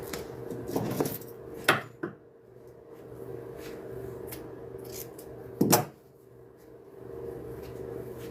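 Pattern material being cut on a styrofoam chair, heard as a few close, crisp snips and scraping cuts separated by quiet pauses against a steady low hum.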